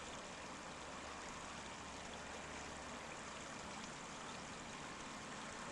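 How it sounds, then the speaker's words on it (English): A fast-flowing stream in a snowy landscape with ice on the branches, a steady, faint, even rush of water that holds without pause. "see how fast the water is travelling"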